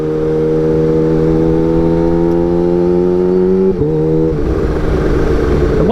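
A Kawasaki Ninja H2 motorcycle engine on a test ride, a loud sustained drone with steady rising pitch that drops sharply as the rider shifts, then climbs again, close and continuous.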